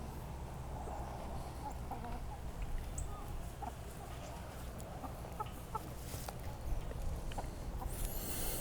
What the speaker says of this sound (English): This one chicken's been following me around pecking on my boot all morning.